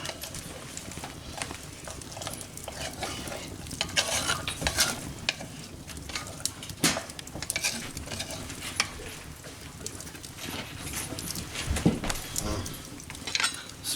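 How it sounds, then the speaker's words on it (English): Squirrel stew gets stirred in a cast iron bean pot, with irregular scraping and knocking of a utensil against the iron, soft bubbling underneath and a few sharper clanks, heard close without talk. "I'm going to give it a mix up."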